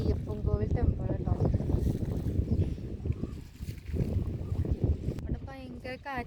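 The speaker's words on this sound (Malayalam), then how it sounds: "അവിടെ ഭയങ്കര കാറ്റാണ്" Strong wind gusts buffet the microphone beside a river at a hanging bridge near Ayyappan Kovil temple, a low rumbling roar that continues under steady nearby talk, with rushing water faintly behind.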